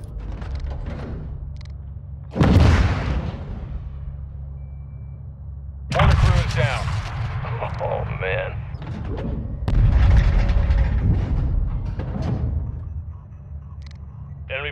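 Heavy cannon and artillery fire from an AC-130 gunship pounding mortar positions near a soccer field in Call of Duty Modern Warfare 2, with loud booming blasts at intervals under radio chatter and a rumbling engine drone.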